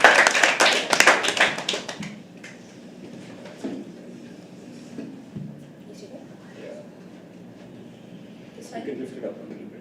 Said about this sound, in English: Keep clapping, she's coming all the way from back.